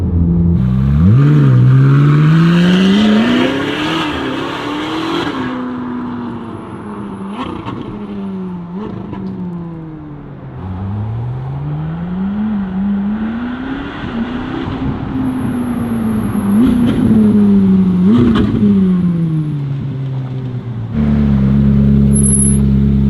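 A Ferrari 458 with S-Line exhaust valves closed revs up and down repeatedly, its pitch sweeping through gear changes, loud, close and steady, with a fairly subdued exhaust tone and no talking.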